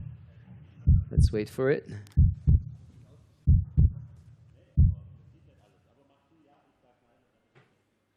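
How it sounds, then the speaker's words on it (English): A heartbeat effect thumps in low, deep beats at a timber sports competition, arriving in close pairs over a few seconds and then fading away, with a voice briefly speaking in between. "Is that your heartbeat that I'm hearing?"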